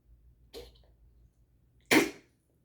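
A single sharp cough from a girl indoors at home, loud and close, preceded by a fainter throat noise about a second earlier, then quiet.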